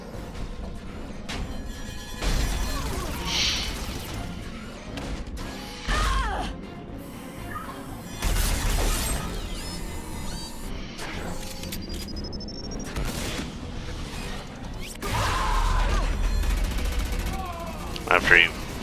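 Gunshots are fired at a mech with heavy armor plating in a video game. Several sharp bursts and crashes come at intervals, mixed with game effects and voices.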